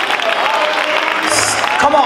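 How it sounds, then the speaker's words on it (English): A church congregation claps along at a service, steady hand clapping mixed with crowd noise and voices calling out over it throughout. "Clap your hands"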